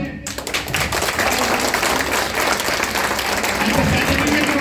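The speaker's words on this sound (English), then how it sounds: "a big clap for them" A university science camp audience in an awards ceremony hall gives the volunteers a loud, dense round of applause, sustained and steady after a short start, with crowd murmur underneath.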